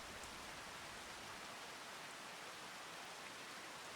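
Steady rain falls in the Farming Simulator 25 video game, a soft, even hiss of drops with no pauses or other sounds.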